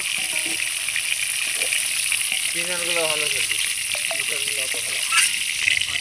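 Cauliflower florets fry in hot oil with a continuous, close sizzling hiss, while a voice speaks briefly over it.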